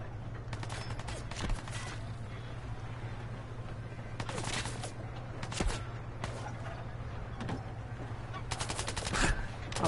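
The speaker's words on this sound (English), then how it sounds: "who is shooting at me?" Gunfire in Fallout 4: scattered bursts of rapid shots and single cracks recurring through the scene over a low steady hum, moderately close, with some talk underneath.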